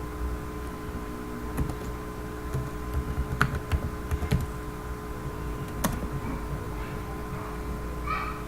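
Keys clack on a computer keyboard as a password is entered while an Exchange Server 2013 user is set up, giving a string of light, close, irregular taps over a steady electrical hum, with no talking.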